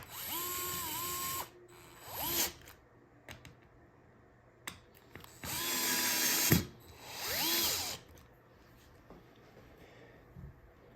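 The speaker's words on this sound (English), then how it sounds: "use a screwdriver or a power drill like I'm using" A power drill whirs in several short bursts, rising and falling in pitch as it drives screws while installing a Schlage B571 deadbolt, with pauses and small clicks between.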